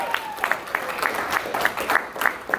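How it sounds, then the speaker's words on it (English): An audience claps for a man being introduced on stage, a steady, fairly close wash of applause with regular accented claps running through the whole stretch and no talk over it. "Give him a big round of applause."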